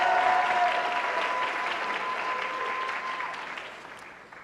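An audience at an evening celebration and awards event applauds warmly, a thick wash of clapping that starts strong and gradually thins and fades toward the end, with no speech over it.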